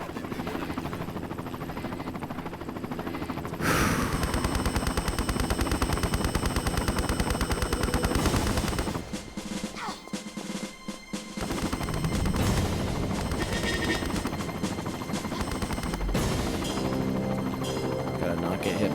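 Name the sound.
helicopter attacking in video game Tomb Raider 5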